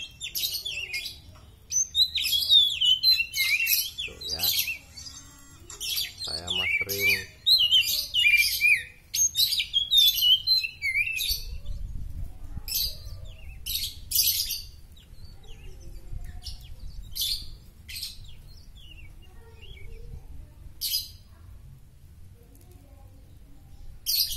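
Lively oriental magpie-robin song of quick chirps and warbling whistles, loud and close at first, then continuing in shorter bursts over a faint low rumble.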